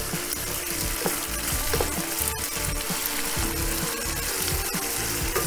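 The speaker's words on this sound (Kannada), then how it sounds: "ಫಸ್ಟ್ ಈರುಳ್ಳಿ ಬಾಡಿಸೋಣ." Two sliced onions sauté in a hot pan for a wedding-style paneer matar gravy, giving a steady, close crackling sizzle with occasional soft stirring clicks and no talking.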